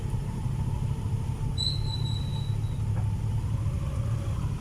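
Dense, bumper-to-bumper car traffic on the Ortigas flyover along EDSA makes a steady low rumble of idling and creeping engines, with a brief high squeal partway through.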